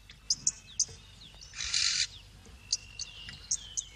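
Oxpeckers call while feeding on a rhino, a series of short, sharp, high chirps spread over several seconds, with a brief burst of louder hissy chatter in the middle, fairly faint against a quiet outdoor background.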